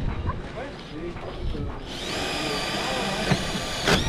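A power drill bores holes for the feet of a boat's gantry, starting after a short stretch of quiet workshop noise and then running as a close, steady high whine; a voice speaks briefly at the start.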